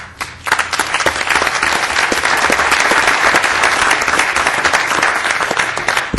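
Sustained applause from a sizable crowd at a California Transportation Commission meeting, dense steady clapping throughout after a brief quieter start, with no talking.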